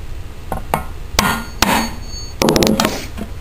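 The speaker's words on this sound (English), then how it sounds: "a small hammer and poke a very small little indent or hole where you want it." A small hammer taps out an indent to guide a drill bit, giving several sharp, close knocks at irregular intervals with short quiet gaps between them.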